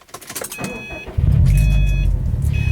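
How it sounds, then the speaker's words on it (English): A 2012 Subaru WRX STI Limited with an SPT exhaust starts up after a few quick electronic chimes and mechanical clicks, its engine settling into a loud, steady, deep idle rumble close by. "let's take this car for a drive and see how it does"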